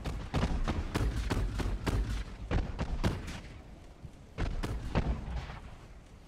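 Warship guns fire high-explosive shells in Ultimate Admiral: Dreadnoughts, a rapid irregular barrage of a dozen or so loud booming shots, some overlapping, with a brief lull before a final cluster of blasts.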